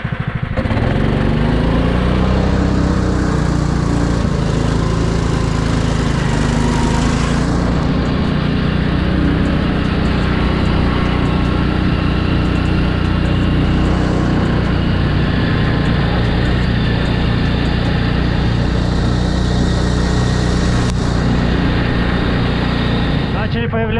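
Steady loud engine drone of a snowmobile being ridden, a Yakut Promax 500 Long or Taiga Varyag 500, running continuously for the whole stretch with someone talking over it at times.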